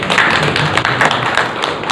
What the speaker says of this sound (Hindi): तो एक बार संजीव जी की जोरदार तालियां बजा दीजिए